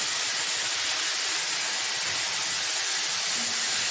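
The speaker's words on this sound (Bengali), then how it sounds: "আদা, রসুন, জিরে, ধনে এই পেস্টটা আমি এর মধ্যে ঢেলে দেবো" A paste of ginger, garlic, cumin and coriander poured into a hot pan for Bengali chicken and potato kofta, a loud, even hiss of steam and sizzle that runs without a break.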